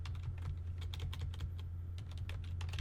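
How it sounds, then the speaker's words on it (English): Rapid typing on a computer keyboard, a quick irregular patter of close key clicks over a low steady hum, with no talking. "So I'm going to type in here, ASCII"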